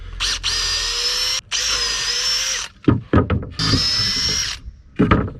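A power drill with a long drill bit whines loudly in three long sustained runs, separated by short pauses filled with clunks and rattling handling noises.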